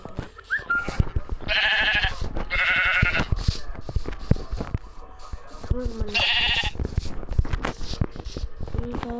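Several sheep bleats from the Minecraft video game, nasal and wavering, come in short bursts over busy clicking and footsteps, with a voice speaking among them.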